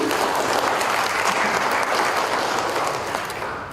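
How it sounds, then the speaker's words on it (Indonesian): An audience at a public information awards ceremony in Jakarta gives sustained, dense applause that stays loud and even and then fades slightly at the end. "Boleh kita berikan tepuk tangan."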